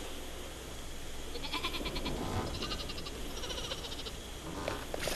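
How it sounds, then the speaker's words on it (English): Sheep bleating in the Xbox One game Flockers, a series of short, quavering in-game bleats spread across the clip over a steady background hiss, with a few sharper clicks near the end. "That's a lot of sheep."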